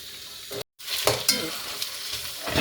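Onions sautéing in a pan for devilled chicken, a bright sizzle with stirring scrapes, briefly cut off by a dropout and then resuming with clinks of the spoon against the pan.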